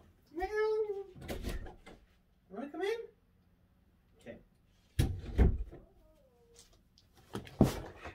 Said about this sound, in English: my stupid cats.